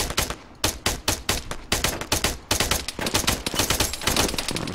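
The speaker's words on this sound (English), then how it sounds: "Machine gunners make your life really difficult." Rapid machine gun fire from a video game, with dense bursts of loud, sharp shots repeating almost without pause and growing into a continuous rattling volley toward the end.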